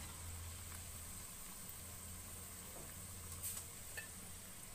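Chicken nuggets frying in oil make a faint, steady, low sizzle with a couple of light clinks and no talking.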